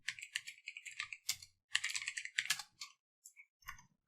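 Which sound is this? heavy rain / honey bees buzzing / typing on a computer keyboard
typing on a computer keyboard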